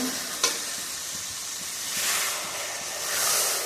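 Water goes into a hot pan of spiced prawns, producing a soft, steady hiss and sizzle that swells twice, with a small clink near the start and no talking.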